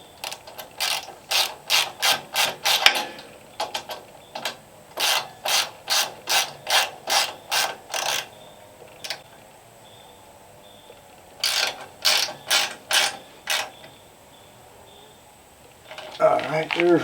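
A ratchet wrench tightening a part on a Wood-Mizer LX150 sawmill clicks in quick bursts of rapid, sharp strokes, pausing between sets, close and clear with no talking.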